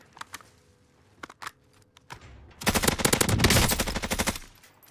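Gunfire in the video game Warzone: a few scattered single shots at first, then a long dense burst of rapid automatic fire that stays loud for about two seconds and tapers off.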